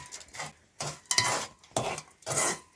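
Sugar melting in a pan is stirred with a spoon for Sri Lankan aggala, giving four or five close, scraping strokes with brief pauses between them.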